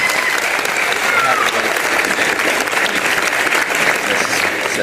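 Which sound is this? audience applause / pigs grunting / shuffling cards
audience applause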